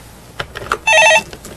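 A telephone rings once, loud and close, as a viewer calls in to a Korean TV stock-market call-in show; a short, steady electronic ring stands alone, with faint clicks before it.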